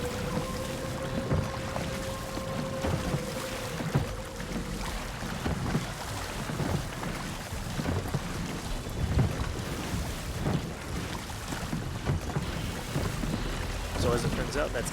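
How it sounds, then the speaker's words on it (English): Wind and rough, rising sea waves surround a rowboat in a pirate video game, a steady roaring wash with gusty noise and irregular splashes throughout. "you'll see as these waves pick up"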